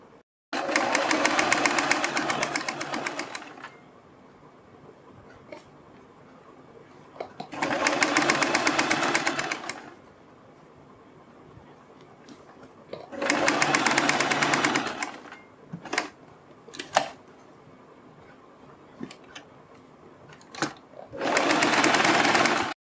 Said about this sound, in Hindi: इसके ऊपर एक सिलाई लगाएंगे।